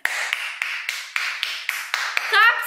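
About nine sharp hand claps arrive at a steady, moderately quick rhythm, close and crisp, and a brief voice is heard at the very end.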